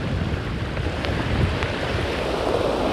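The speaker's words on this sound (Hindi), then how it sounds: "तेज है बहाव, बारिश का पानी ज़रूर है लेकिन तेज।" A rain-swollen stream rushes along on a rural walk, a steady, full roar of fast water that stays close and continuous, with some wind buffeting the microphone.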